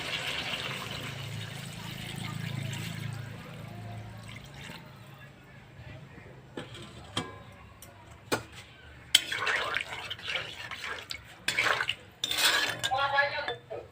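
Water is poured into a pan of cooked spice masala for a tengra fish curry with potato and eggplant: a rushing pour at first, then scattered metallic clinks and scrapes of utensils against the pan, close by.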